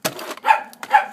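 A playful dog barks excitedly in three quick bursts, the sharp yips close and loud, wanting to play with another dog indoors.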